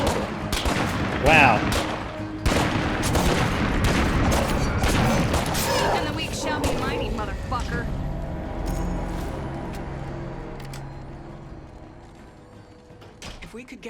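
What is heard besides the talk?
Timberwolf gun shooting in video game State of Decay 2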